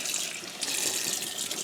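Tap water runs steadily over a tie-dyed, discharge-treated spiral tee being rinsed in a sink, a continuous hissing splash heard close up and alone.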